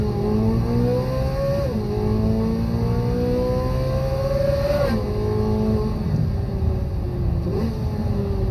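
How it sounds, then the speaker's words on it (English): An American sports car engine revs loudly and continuously, its pitch climbing steadily and dropping briefly at each gear shift, three times in a row. "Just give me some exotic, sweet American engines."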